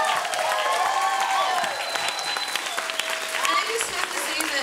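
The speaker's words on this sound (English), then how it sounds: "Give a round of applause to all of our performers from this evening" A live audience claps loudly and continuously for dancers and musicians at an evening performance in Seattle, with cheers and a few whoops rising over the applause.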